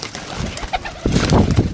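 Pigeons kept for sale coo and flutter close by in a short burst, soft murmuring calls giving way to a louder, fuller stretch of cooing and wing movement near the end.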